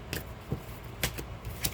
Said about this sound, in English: Let's give this a shuffle here.